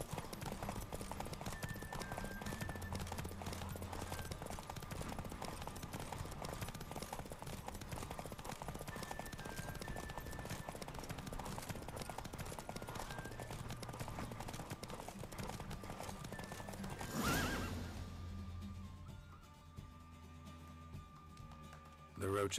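Roach the horse gallops hard through a race in The Witcher 3, a steady fast clip-clop of hooves running the whole way under game music and voices, with a brief whinny before the pounding fades near the end.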